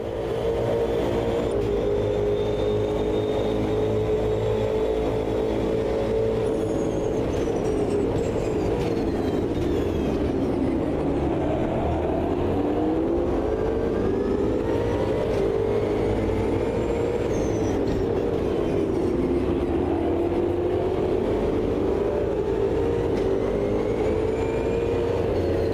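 Ultima GTR race car engine at Road America in Automobilista 2, a loud continuous roaring drone whose pitch rises and falls with gear changes and speed, mixed with other cars and with no talk.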